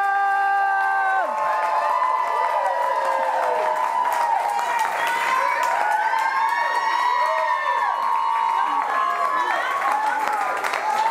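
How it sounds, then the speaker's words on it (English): A live podcast audience claps and cheers steadily, with whoops and shouted voices riding over continuous loud applause throughout. "Keep clapping for Erica."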